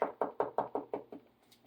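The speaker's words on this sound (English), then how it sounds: "let me knock" Knocking on a patient's hospital room door: seven firm, evenly spaced knocks, close and clear, with the last couple fading softer, and no talking.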